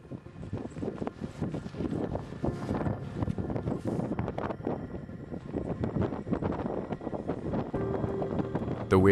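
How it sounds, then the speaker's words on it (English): Strong gusting wind in the mountains of the Russian Far East buffets the microphone continuously with rough, fluttering roars, steady and fairly close with no voices. "The wind grows stronger."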